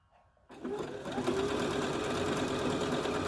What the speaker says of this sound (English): really the machine is doing it all. I'm not having to touch anything. It's automatically feeding the fabric through.